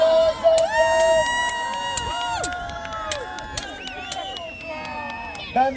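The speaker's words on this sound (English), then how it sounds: "Make some noise, audience!" A medieval festival crowd cheers and shouts during a staged fight, with children's voices and whistles rising in loud bursts that swell and fade, an announcer's voice breaking through near the start and end.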